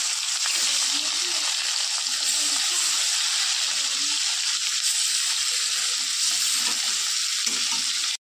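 Pieces of rohu fish frying in oil in a wok give a steady, dense sizzle that holds evenly for several seconds at close range, with faint low clinks in the background.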